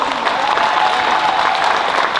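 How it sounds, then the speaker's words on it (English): A sustained burst of applause from a sizable crowd at the Kumoricon 2021 anime convention opening ceremonies, steady and fairly loud throughout, with a faint murmur of voices mixed in. "Can you get a huge round of applause for them as well?"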